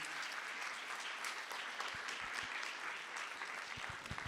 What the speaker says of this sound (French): je pense qu'on peut vraiment applaudir Hélène, Frédéric Bonnet-Brio et les équipes